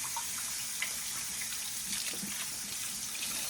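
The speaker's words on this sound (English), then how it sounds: "I'm gonna rinse off my spatula." Tap water runs steadily over a spatula being rinsed in a kitchen sink, a continuous close splashing flow with small shifts as the utensil moves.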